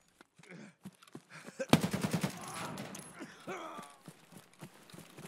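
A short burst of automatic gunfire in Escape from Tarkov, close and sharp, rattling for about half a second amid scattered game noises, footsteps and quiet talk.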